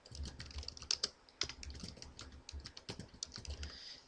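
Typing a web address on a computer keyboard, quick irregular key clicks heard close and fairly quiet with brief pauses, no talking.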